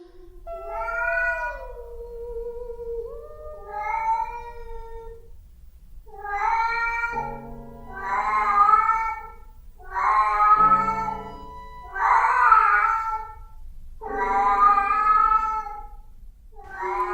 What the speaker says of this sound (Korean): 어디선가 아기인지 고양이인지 모를 울음소리가